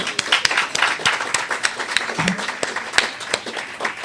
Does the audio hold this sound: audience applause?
yes